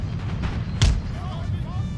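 A single volley of musket fire booms from line infantry in the Empire: Total War strategy game, one short blast rising over a low rumble of battlefield ambience.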